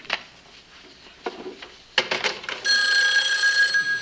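A telephone being dialed in a sitcom scene: a few sparse clicks, then a steady, bright electronic tone that holds loud and close to the end.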